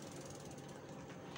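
A Shimano bicycle rear hub freewheel ratchets in a fast continuous clicking as the wheel spins, faint and close, on a Giant bike with a Shimano STX groupset.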